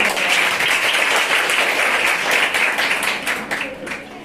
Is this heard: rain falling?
no